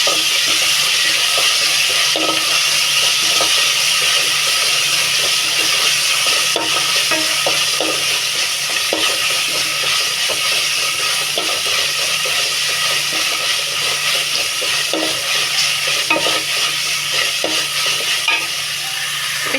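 Onions fry in a pan with ginger-garlic paste and tomato, a continuous close sizzle and hiss with frequent light stirring scrapes and taps, and no one talking.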